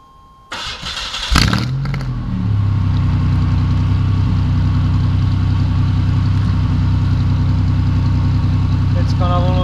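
A car engine fitted with a bicycle inner tube as an exhaust modification starts with a sharp burst, then settles into a steady, loud idle with a continuous low hum.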